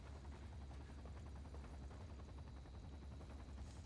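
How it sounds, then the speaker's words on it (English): A helicopter hovering overhead in the 007 Quantum of Solace video game, a fast continuous rotor chop with low rumble, steady and fairly faint throughout with no talk. "this helicopter right above me should actually crash"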